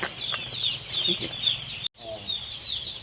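Broiler chicks in a poultry brooding shed keep up a dense chorus of high, chirping cheeps with overlapping calls close by, broken by a brief dropout near the middle.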